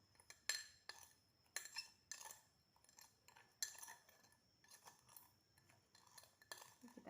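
A spoon stirring a mix of soil and sand in a container, heard as repeated scraping and clinking strokes in an irregular rhythm, close and fairly quiet.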